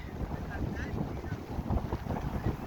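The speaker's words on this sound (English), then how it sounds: "do you notice that it's a lot more windy?" Steady wind buffeting the microphone, a continuous low rumble and roar with no break across the moment.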